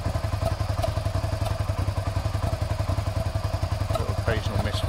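Suzuki SV650 motorcycle engine running with a rapid, steady thudding rhythm and an occasional misfire, loud and close, with a brief voice over it near the end.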